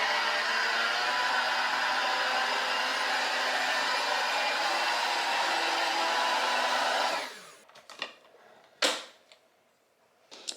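An electric mixer whirs steadily and loudly while blending chocolate cake batter in a pan, then shuts off and leaves a few clicks and clatters.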